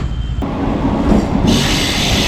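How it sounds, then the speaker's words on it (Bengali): A train pulls into a station platform for a trip to Bakkhali beach, with a loud, steady rumble of railway cars and wheels that swells and brightens into a hissing, squealing wash partway through. "চলুন, আমাদের ট্রেন চলে এসছে।"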